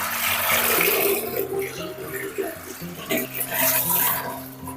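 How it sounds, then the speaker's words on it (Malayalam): Water pours in a loud, steady gush into a large clay cooking pot, filling it until the pot is submerged for soaking. The splashing rushes close by and varies slightly in strength throughout. "ഇതൊന്ന് മുങ്ങി നിൽക്കുന്നത് വരെയുള്ള വെള്ളം ഇപ്പൊ ഞാൻ ഒഴിച്ചു കൊടുത്തിട്ടുണ്ട്"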